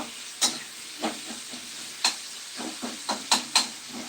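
Onions and tomatoes sautéing in a pan for drumstick sambar, a soft sizzle under a series of sharp stirring scrapes and clinks at uneven intervals, close and fairly quiet, with no talk.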